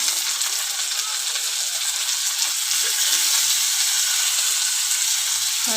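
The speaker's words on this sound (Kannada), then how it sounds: "ಇವಾಗ ಈರುಳ್ಳಿ ಫ್ರೈ ಆಗಿದೆ ಚೆನ್ನಾಗಿ" Onions and tomato frying in a pan for a chowlikaayi (cowpea) palya, a steady close sizzle filling the whole stretch with faint stirring scrapes underneath and no talk.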